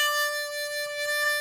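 A harmonica holds one steady, bright note while the cupping hand makes only a faint, barely changing wah, as a beginner's would. It is near and moderately loud, with no talking.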